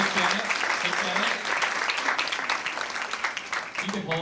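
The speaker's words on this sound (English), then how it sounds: "You can hold your applause to the end" Audience applause at a 1992 tribute evening honoring a man's life and career: sustained, dense clapping from a crowd fills the hall, with a voice speaking over it throughout.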